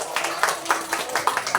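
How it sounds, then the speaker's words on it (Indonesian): An audience at a Maulid Nabi gathering claps in a quick, rhythmic pattern of several bursts, with voices mixed in. "Tepuk tangan dulu dong."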